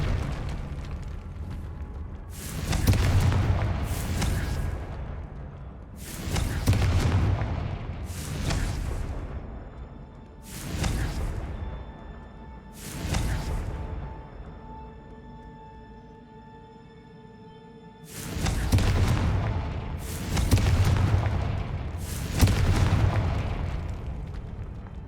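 Confringo fire-blast spells explode in the Hogwarts Legacy game, a series of about nine loud, booming bursts coming singly and in quick clusters, separated by quieter gaps.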